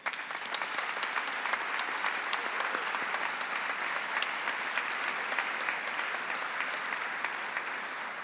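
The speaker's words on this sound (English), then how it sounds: "Big round of applause." A roomful of guests at the Georgetown University Wall Street Alliance Dinner 2020 breaks into brisk, sustained applause, loud and continuous for the whole stretch with crisp individual claps standing out in the wash.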